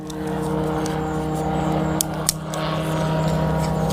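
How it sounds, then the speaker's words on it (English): A small propeller airplane such as a Cessna drones steadily overhead in the backcountry, a continuous loud engine hum through the whole stretch with a couple of brief clicks nearby. "no matter where you go, there's always an airplane"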